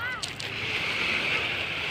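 Calm sea waves wash steadily at Punta Harina Beach, a soft continuous surf with breezy wind noise, while a voice speaks over it near the start.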